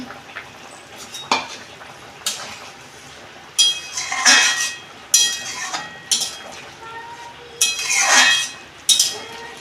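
A cooking pot lid is lifted and lentil dumplings are dropped into a home-cooked mixed-vegetable dish, giving repeated metallic clinks and scrapes of utensils against the pot in short bursts.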